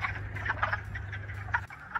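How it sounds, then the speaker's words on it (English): Wood frogs call from a vernal pool in early spring, giving repeated short clucking croaks in an irregular chorus over a low steady hum. The calls are fairly faint, with no voices. "Those calling are wood frogs."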